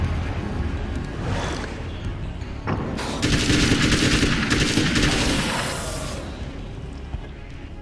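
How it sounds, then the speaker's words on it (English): Gunfire from a weapon in the video game Alan Wake's American Nightmare: a loud, dense stretch of rapid shots rattles for several seconds in the middle, over a steady background rumble. "I don't think this gun's actually better than the hunting rifle."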